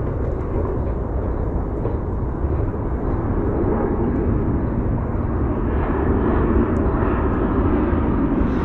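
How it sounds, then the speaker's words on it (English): Airplanes pass overhead along a forest trail, a continuous low rumbling roar that fills the whole stretch, steady and fairly loud with slight swelling toward the end and no talk over it. "there's planes again"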